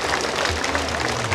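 Applause from a crowd at a stadium celebration, a dense steady wash of clapping filling the short moment at a fairly loud level.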